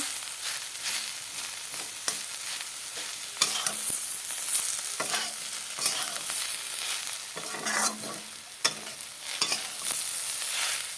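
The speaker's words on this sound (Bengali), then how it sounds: "এইভাবে উচ্ছে আলু ভাজা করলে সব বাচ্চারাই খাবে" Bitter gourd and potato pieces fry in a pan while being stirred, a continuous close sizzle broken by repeated scraping and tossing strokes, with no talking.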